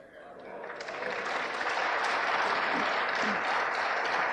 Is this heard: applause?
yes